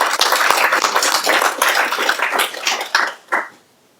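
Applause from the audience at the NCA annual general meeting, thanking staff, a dense burst of hand clapping that thins out and stops after a few seconds, close and loud.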